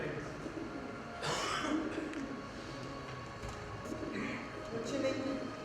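Pigeons coo softly on a rooftop, their low, faint calls mixed into busy background noise with murmuring voices nearby.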